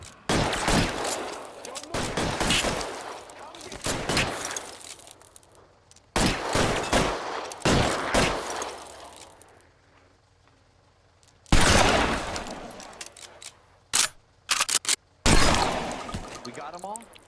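Bursts of gunfire in the VR detective game L.A. Noire VR, several loud volleys of rapid shots with pauses between them, some speech around the shooting.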